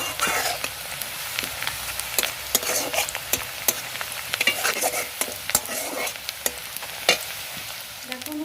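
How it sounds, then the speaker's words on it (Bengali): Onions deep frying in plenty of oil for beresta, a dense continuous sizzle with frequent sharp crackles and stirring scrapes, close and steady throughout. "পেঁয়াজের বেরেস্তা মানে সেই যেরকম তেলে পুরো ছাকা তেলে ভাজা হয়"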